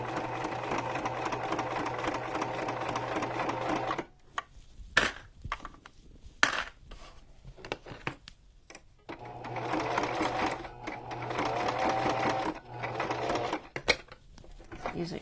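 Sewing machine stitching ribbon onto a junk journal cover, a steady close mechanical whir in two long runs separated by a few seconds of quieter handling clicks and rustles.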